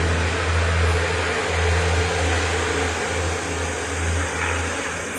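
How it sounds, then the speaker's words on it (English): A tractor trailer truck passes on a rural road near a back porch, a steady, loud low rumble with broadband road roar that swells slightly and slowly fades, with no voices. "Got a tractor trailer going by."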